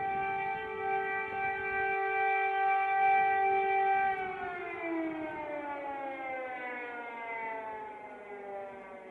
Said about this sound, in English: now it's obviously a siren. Say siren, air raid siren.